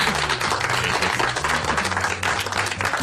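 A group of people clap in dense, steady applause that holds for about three seconds, fairly close and loud, with a low hum of voices or music underneath.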